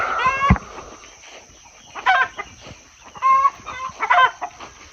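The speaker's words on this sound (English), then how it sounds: "chickens are saying good morning." Chickens cluck and squawk in short bursts outdoors in the morning by a garden, a few calls rising over a quiet background with faint birdsong.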